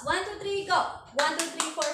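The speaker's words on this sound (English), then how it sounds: "Let's give them a round of applause." A Grade 9 agricultural crops production class claps for a group in a short, unified rhythmic clap. Four or five sharp, crisp bursts follow a voice counting off the cue, with the bursts evenly spaced and close by.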